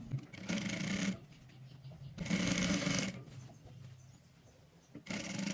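A sewing machine stitches the folded hem of a frock, running in three loud, close bursts of rapid, steady needle chatter with quieter pauses between them.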